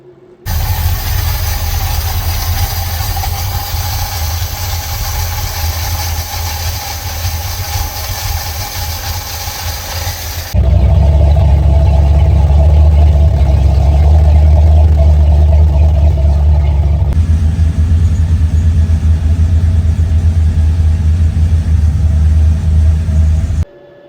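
Crusader 454 marine engine fitted with a Holley carburetor runs steadily at a loud, rumbling idle with no talk, the tone shifting partway through as another steady mechanical drone joins in the background.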